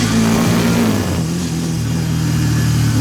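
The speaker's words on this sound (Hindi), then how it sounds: "इंजन काफ़ी रिफाइंड है बाइक का" A Hero Extreme 160R 4V Pro 160 cc motorcycle engine runs steadily while being ridden, with a loud, continuous mid-pitched drone that dips slightly at about one second before holding even to the end, and no talking.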